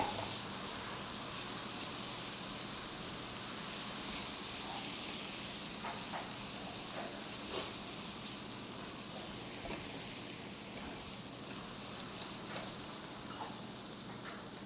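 Chopped onions and colorau sautéing in a pan for chicken pie filling, a continuous bright sizzle and hiss that holds steady from start to finish, close and fairly loud, with no talking.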